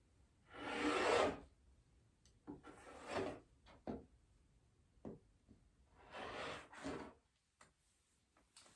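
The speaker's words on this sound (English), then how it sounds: "We're trimming the selvage." Fabric selvage being trimmed on a cutting mat, several separate rasping, rubbing strokes of a cutter across cloth with brief pauses and small clicks between, close and fairly loud, no voices.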